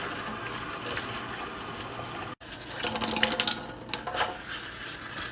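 Running sink water rinses a soapy cast iron citrus juicer, a steady faucet stream with splashing and clatter that grows busier partway through after a brief pause.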